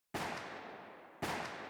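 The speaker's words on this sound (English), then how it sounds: "Gunshots rang out and Mick Howie, seated in his Mercedes, was" Gunshots are fired at a man seated in a black Mercedes outside a gym: two loud, close blasts about a second apart, each leaving a long decaying echo, with no talk.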